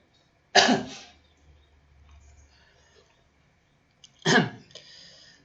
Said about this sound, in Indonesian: Sebentar, Bapak batuk dulu.